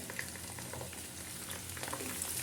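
Cut mango pieces for pickle fry in hot oil, a soft, steady crackling sizzle at low volume with faint stirring sounds and no talk.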